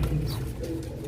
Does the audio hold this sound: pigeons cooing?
yes